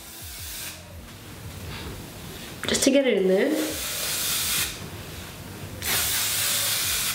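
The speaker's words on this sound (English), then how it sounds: "I like to grab my hairspray, and I like to spray it through the top of my hair" A short hiss of hairspray bursts out close by onto hair, with someone talking briefly over it and softer hissing puffs afterward.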